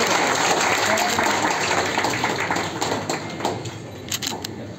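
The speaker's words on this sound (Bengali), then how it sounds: "জোরে হাততালি দেবেন" A crowd at a district council award ceremony for Murshidabad madrasa board exam toppers claps loudly and steadily, the applause thinning toward the end with a few separate claps.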